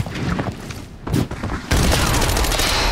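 Grenade blast in the tactical shooter Arena Breakout: a brief lull, then a sudden loud burst at about 1.7 seconds that stays dense and roaring with crackling gunfire through the end, with no voices.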